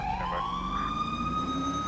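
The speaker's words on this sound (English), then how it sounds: "Oof, this siren." Police car siren wailing during a code 3 emergency response, a loud steady rising tone heard from inside the vehicle over low engine and road rumble, with no talking.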